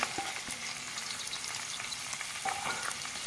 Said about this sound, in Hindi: ऑयल गर्म हो चुका हुआ है। सबसे पहले प्याज शामिल करेंगे।